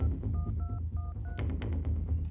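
A telephone being dialed: four short paired keypad tones in quick succession over a low hum, followed by a few soft clicks.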